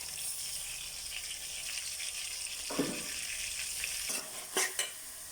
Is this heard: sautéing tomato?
yes